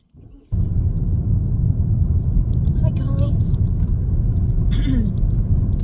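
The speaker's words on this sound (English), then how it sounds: "Yeah, start the car, Em" A car engine turns over and settles into a steady, close idle, a loud low rumble running unbroken after a short quiet start, with brief faint sounds over it.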